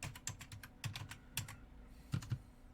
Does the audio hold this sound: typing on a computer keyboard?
yes